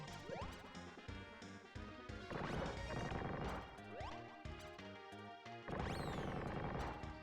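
Blocks smash again and again in TwinBee Rainbow Bell Adventure. The loud crashing hits come in quick bursts, with whooshing sweeps layered over bright game music.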